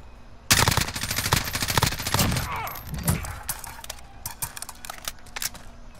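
Rapid automatic gunfire from Call of Duty: Warzone erupts in dense, loud bursts, then thins into scattered shots and short volleys that continue in the background.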